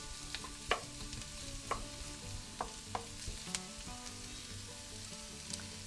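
Leftover shrimp fried rice with garlic and onions sizzles quietly in a pan over medium-high heat, with soft frying crackle and occasional spoon clicks against the pan.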